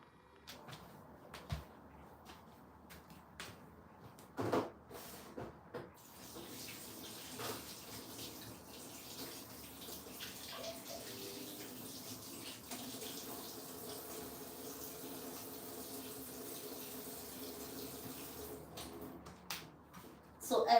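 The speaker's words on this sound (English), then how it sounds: "Let me just wash one of these leaves and show you the gel." Tap water runs steadily at a sink while an aloe vera leaf is washed under it, a continuous moderate hiss with occasional knocks and handling clatter, no talking.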